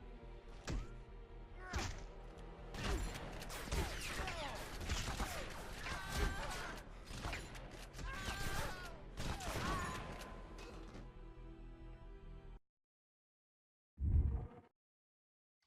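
A close-quarters fight with a shotgun-wielding enemy in Afterfall Insanity brings a rapid run of heavy thuds, whacks and blasts for about twelve seconds, then near silence before one last low impact.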